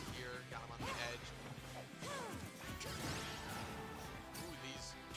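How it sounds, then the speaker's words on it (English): Down smash attacks in a Super Smash Bros match between Lucas and Meta Knight, a series of loud crashing hits and swishes in dense game audio with music and effects throughout. "these down smashes, they're working out really well for him."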